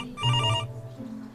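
A telephone rings with a short electronic trill lasting under half a second, followed by quieter background noise in an indoor setting.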